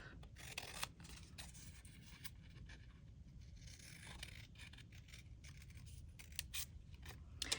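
Scissors snip through a strip of scrap paper for a DIY tropical palm craft, giving a steady run of close, crisp cutting and rustling strokes with no talk.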